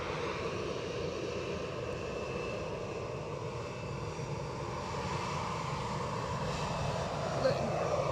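An easyJet plane takes off from Edinburgh Airport bound for Luton, its steady broad engine roar filling the air at a moderate distance and building slightly toward the end, while people talk faintly underneath.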